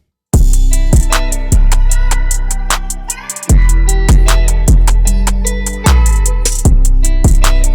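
A loud rap beat with punchy kick drums and deep booming 808 bass under bright rhythmic hi-hats, played alone with no talking.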